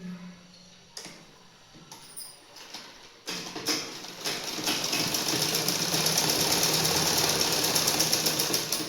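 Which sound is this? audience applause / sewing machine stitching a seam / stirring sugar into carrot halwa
sewing machine stitching a seam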